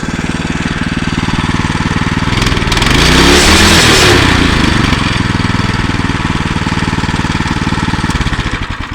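A small engine runs steadily at idle with a loud, throbbing exhaust, briefly revving up in the middle before settling back down.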